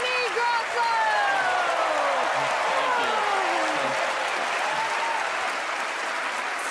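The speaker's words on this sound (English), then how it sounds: "Give Mark a nice round of applause for helping me, and Gilbert Gottfried as well." A studio audience at a televised magic competition gives a loud, sustained round of applause that holds steady for the whole stretch, with faint musical tones running underneath.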